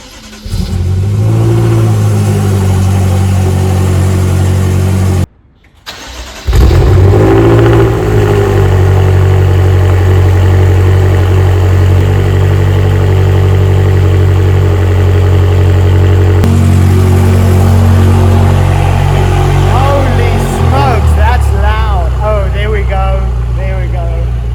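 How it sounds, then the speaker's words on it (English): A BMW M6 twin-turbo V8 fitted with custom stainless steel downpipes fires up from cold, settling into a loud, steady high idle with a deep drone after a brief silent gap and restart. "Now I have this sneaky suspicion that the cold start is going to be absolutely ridiculous."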